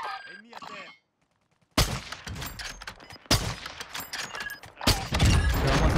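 Gunfire in a Warzone 2 match, a silent gap then sudden loud bursts of automatic shots and rattling volleys, with voices talking between.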